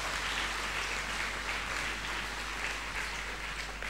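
An audience at a school centenary investiture ceremony claps steadily for the head boy and head girl, a dense sustained round of applause filling the hall without pause.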